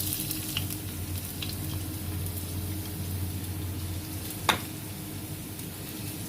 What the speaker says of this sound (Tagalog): Gisa-gisa.